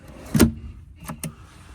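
A storage drawer on the console of a 2025 Alumacraft Competitor 185X tiller boat slides and clunks, one firm knock followed by two lighter clicks, close and loud.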